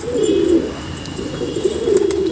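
Pigeons coo in low, repeated rolling calls close by, two or three phrases in a row with faint background chirps.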